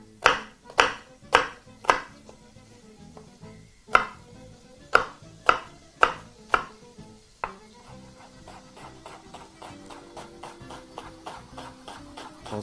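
Onions are chopped very finely on a cutting board for a pea stew: sharp, evenly spaced knife strikes, close and loud, that speed into a quicker, softer run of rapid chops.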